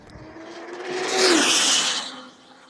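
A high-speed RC car making a speed run at over 200 mph: a loud, building engine whine that rises and peaks mid-run, then fades as the car passes, heard alone without talk.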